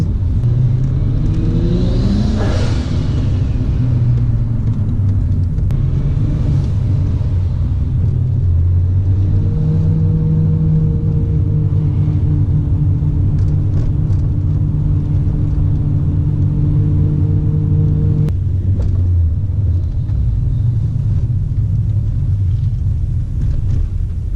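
A Nissan R32 GTR drives on the road, its engine a steady low rumble with a few rises in revs across the run. No one speaks over it.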